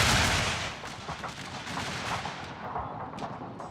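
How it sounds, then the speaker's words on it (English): Massed musket volley gunfire in a Shogun 2 battle, a dense roar of many shots cracking together at once, loud and sustained, then settling into ragged continuing fire across the field. "Just a murderous volley here."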